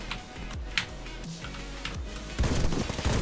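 Gunfire rattles in the online shooter Warface as a Johnson 1957 rifle is tested, with shots in quick bursts that end in a denser, louder volley.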